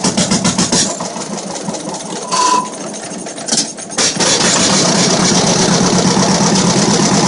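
A 1950 John Deere B tractor starting from cold: loud, close engine with a brief cranking stutter and a couple of sputtering catches, then settling into a steady, continuous idle thrum.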